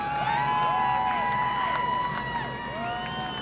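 Crowd at the Milwaukee Mile cheering Paul Menard's NASCAR Busch Series victory, a broad sustained roar of voices and whoops continuing throughout.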